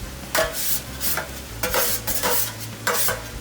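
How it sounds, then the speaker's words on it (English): Browned meat for a deer bolognese is stirred together with sautéed vegetables in a pan, a handful of loud scraping stir strokes rising over a steady low sizzle, with no talking. "Now we're going to add our nice sauteed vegetables back in."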